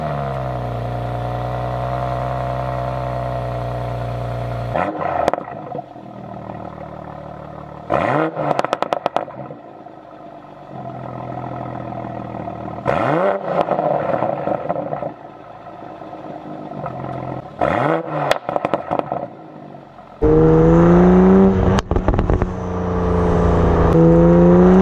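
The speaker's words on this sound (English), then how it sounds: "I upgraded to the Frequency Intelligent Catback Valvetronic exhaust system, and I opted for the carbon fiber tip options." A 2020 Toyota Supra fitted with a Frequency Intelligent Valvetronic catback exhaust with carbon fiber tips idles with a deep rumble, then snaps through several sharp rev blips before a long, loud sustained rev at the end.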